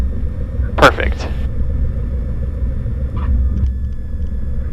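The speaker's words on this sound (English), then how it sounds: "Right main on the ground, and there's the nose gear." Cessna 172M light aircraft touching down on the runway at McKinney, Texas, the main wheels first and then the nose gear, heard as a couple of short thumps over a steady, loud cabin rumble, with a few lighter knocks later in the roll.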